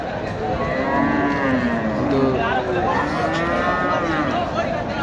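Cattle at a muddy, crowded rural cattle market near Naogaon moo loudly in long, drawn-out calls that overlap one another. Crowd chatter and talk continue underneath.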